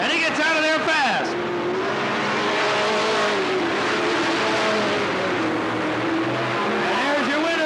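Race cars roaring around a 1991 speedway oval at Riverside (Cottage Grove), loud sustained engine whine with a car sweeping past early on, while an announcer talks over the racing.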